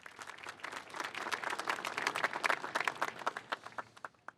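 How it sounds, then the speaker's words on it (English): A crowd at a San Francisco hotel industry press conference claps for hotel and hospitality workers, building from scattered hands to loud, sharp applause with distinct individual claps, then thinning out. "let's give it a round of applause for those hotel and hospitality workers that are here with us today"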